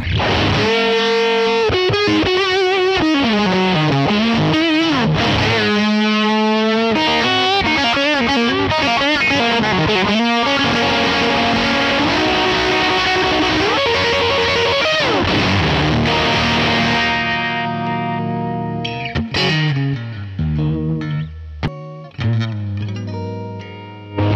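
An electric guitar, a PRS Silver Sky SE through a UA Dream '65 amp, plays melodic phrases through a warbling, pulsing vibe-style modulation effect, loud and sustained, ending with a few choppier notes.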